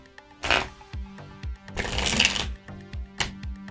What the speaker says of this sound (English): So let's give this deck another, maybe one more shuffle.